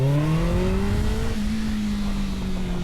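A Kawasaki ZX6R sport motorcycle engine revs loud and close, pitch climbing and then holding a steady high whine with a rough low rumble underneath; no talking.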